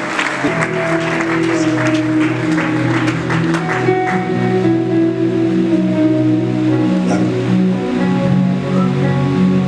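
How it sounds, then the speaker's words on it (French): A church congregation claps and cheers loudly at a worship service, a dense roar of hands and voices over sustained musical tones, continuous and close throughout. "On acclame très fort."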